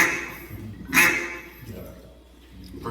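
A duck call imitates a duck's quack: a few short nasal quacks, the loudest near the middle, over faint background noise.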